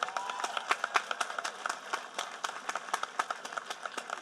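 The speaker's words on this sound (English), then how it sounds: "deserves yet another round of applause from everyone" An audience at a 2021 high school graduation ceremony claps: a lively burst of many hands in quick, uneven beats, close and fairly loud, with a faint murmur under it.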